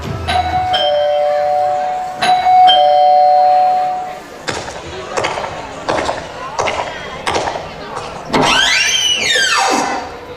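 A doorbell in a Hindi family drama chimes twice near the start with clear ringing tones, followed by knocks and movement sounds and a voice speaking nearby.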